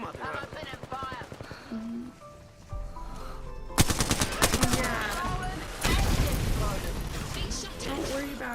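Rapid video game gunfire bursts out in loud, sharp volleys, with people talking and game sounds running underneath throughout.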